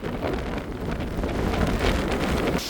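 Steady, rushing wind buffeting the microphone outdoors by the sea at Palali during flooding, a continuous roar with no voices.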